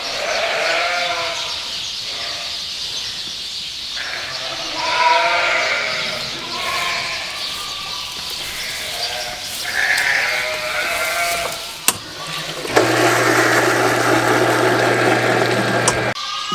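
Sheep bleat repeatedly in a barn, several overlapping calls at close range with livestock shuffling, followed near the end by a steady engine or pump-like hum.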